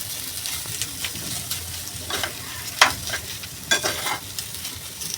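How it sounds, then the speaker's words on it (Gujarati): A potato vada filling with turmeric and red chili is stirred in a pan, with soft scraping strokes over a low sizzle, close and fairly quiet, without talk. "બધું જ બરાબર હવે આપણે મિક્સ કરવાનું છે."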